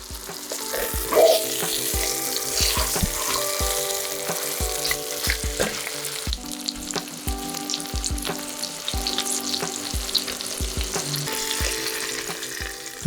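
Leg of lamb browning in an oven-safe pot, giving a steady, close sizzle and frying crackle that runs unbroken, with faint clinks and stirring, and no voices.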